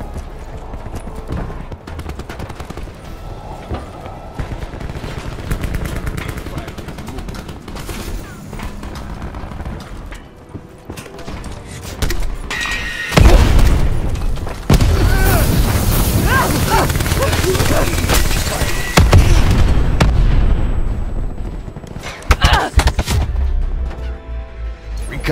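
Hellstorm missiles slam into the map in Black Ops 4 multiplayer, a dense run of heavy booms and crackling blasts that builds from scattered hits into loud, sustained roaring bursts, with game announcer voices and battle noise in between.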